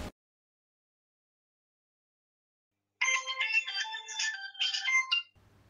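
Bright electronic mobile phone ringtone for an incoming call in an office skit, starting after about three seconds of silence and playing a loud, close, repeating melodic pattern for roughly two seconds before cutting off.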